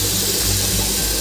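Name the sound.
water poured from rinsed poppy-seed bowl into pan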